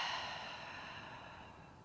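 A long exhale is let out through an open mouth, a soft breathy sigh heard up close and alone that gradually fades over nearly two seconds.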